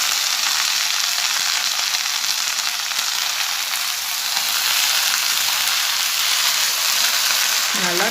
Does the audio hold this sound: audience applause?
no